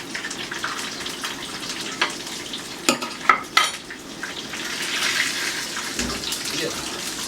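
Lemon pepper fried chicken is lifted out of a hot frying pan of grease, a steady sizzle running throughout with a few sharp clacks and scrapes near the middle.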